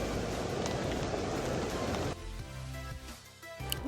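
Water showers down like heavy rain at a water park: a dense, loud, steady hiss for about two seconds, then it drops to a quieter background with faint tonal sounds and distant activity.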